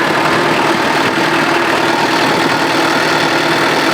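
A New Holland tractor engine runs at a steady, loud idle close by, with a constant rumbling drone and no breaks.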